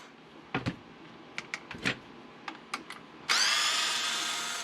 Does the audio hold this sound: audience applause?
no